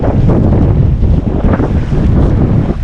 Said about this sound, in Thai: ลมแรงมากตอนนี้